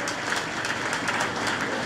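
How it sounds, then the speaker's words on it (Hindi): An outdoor gathering at a pasture and cattle shelter in Viramgam breaks into a burst of loud, dense clapping from many hands, continuous and close throughout the short stretch. "सब सम्मत है, जोरदार तालियां हो जाए जोड़े जोर से"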